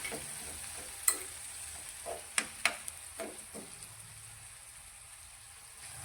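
Tomatoes cook in a pan over a medium gas flame, giving a steady, soft sizzle. A handful of spoon scrapes and light taps come as they are stirred, with no talking.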